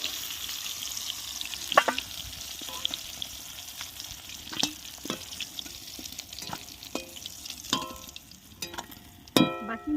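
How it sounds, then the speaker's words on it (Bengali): Pieces of katla fish frying in hot oil in a pan, giving a steady close sizzle with scattered crackles and pops and occasional stirring clinks throughout, no talking. "বাকি মাছগুলো এইভাবে ভেজে নেব।"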